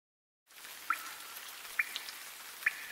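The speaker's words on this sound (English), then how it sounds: "It's the rain." Rain patters steadily, with three distinct drips landing at a slow, even pace, fairly close and soft.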